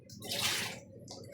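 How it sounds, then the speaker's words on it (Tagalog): Tap water runs in a home kitchen on a rainy day, a close, full rushing stream that swells and then eases slightly. "Tubig."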